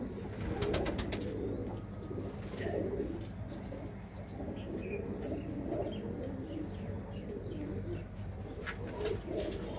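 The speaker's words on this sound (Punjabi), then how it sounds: "ਇਹ ਜਿੰਨੇ ਵੀ ਹੈਗੇ ਸਾਰੇ ਸਾਰੇ ਉਡਾਰੂ ਕਬੂਤਰ ਨੇ ਜੀ ਸਾਡੇ" Many flying pigeons in a loft coo steadily together, a soft continuous murmur with occasional sharper notes over faint background hum.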